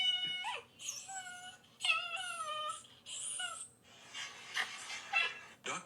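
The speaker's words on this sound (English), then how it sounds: "It's gonna be a dog barking." A dog whimpers and whines in high, wavering cries, then breaks into a few short barks. The sound plays back from a video clip at moderate volume.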